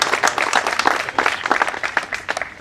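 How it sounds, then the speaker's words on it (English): An audience at a golden jubilee school reunion gives a round of applause, with dense, fairly close hand clapping that carries steadily and then thins out toward the end. "So I want a round of applause for all of us."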